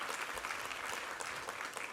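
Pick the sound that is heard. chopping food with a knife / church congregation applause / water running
church congregation applause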